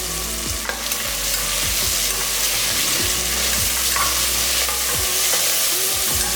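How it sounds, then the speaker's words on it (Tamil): Onions and tomatoes sauté in a pan for mutton gravy, with a constant loud sizzle and regular scraping stirs every second or so, and no voices. "வெங்காயம் தக்காளி இந்த அளவுக்கு வதங்கினா போதும்"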